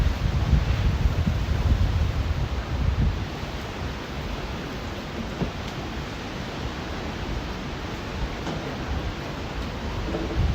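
Strong Hurricane Helene wind roaring steadily in Steinhatchee, Florida, a dense broadband rush buffeting the microphone, heavier in the first few seconds and then settling into a constant loud howl.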